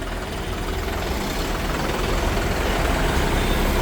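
A John Deere 4WD tractor's diesel engine runs steadily with a deep, continuous low rumble and rattling knock, growing slightly louder toward the end.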